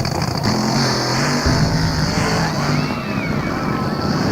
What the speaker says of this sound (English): Leaving the line together, but look at Don Prudhomme.